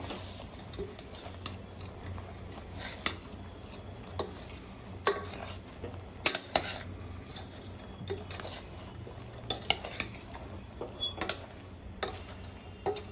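Bottle gourd and chana dal curry being stirred with jaggery in a pot. Repeated spoon scrapes and sharp clicks against the pot come in an irregular rhythm over a low, soft sizzle.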